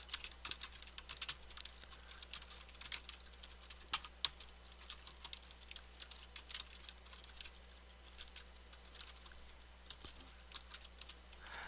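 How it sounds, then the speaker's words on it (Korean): Rapid, steady keystrokes on a computer keyboard while slide text is entered in PowerPoint 2010, with clicky taps heard up close and alone for the whole stretch. "바로 텍스트 입력해 보겠습니다"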